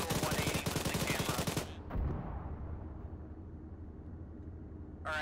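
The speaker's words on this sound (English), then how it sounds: "Sounds like we're getting mortared right now" Incoming mortar fire in a combat setting: rapid loud gunfire bursts up front, then a heavy low thump and lingering rumble, with a brief voice at the end.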